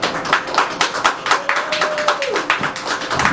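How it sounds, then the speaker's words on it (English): An audience gives a round of applause at an early show in a venue, many hands clapping densely and steadily from start to finish, fairly close and lively. "we need to be able to just give a round of applause to Stephanie"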